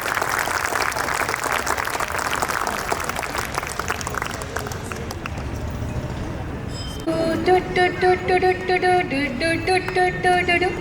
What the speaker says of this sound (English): A huge round of applause once again for these super kids.